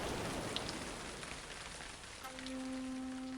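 Pouring rain falls in a dense, steady hiss, close and moderately loud, with a faint tonal drone entering partway through and no speech over it.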